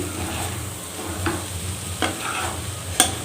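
Prawn fry for a prawn curry cooks on low heat in a pan, giving a steady close sizzle broken by a few sharp spoon scrapes and taps as it is stirred.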